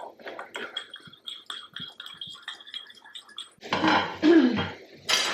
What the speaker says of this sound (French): je vais bien mélanger avec mon mini fouet